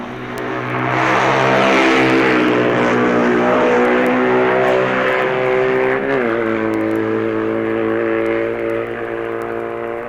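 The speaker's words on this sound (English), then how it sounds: "here at Union Mills is the BMW outfit of Pip Harris" Pip Harris's BMW sidecar outfit races past Union Mills at the Isle of Man TT, its engine a loud, steady, harmonic roar that swells, then drops in pitch as it goes by and fades slightly.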